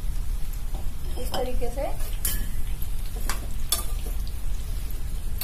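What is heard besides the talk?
onion and capsicum sautéing in pan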